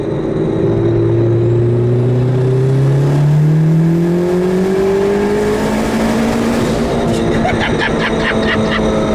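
A boosted, B20B-swapped 1995 Honda Civic EJ coupe with a built bottom end pulls hard in third gear, its engine note climbing steadily and loud from inside the cabin, with turbo whistle and road roar beneath.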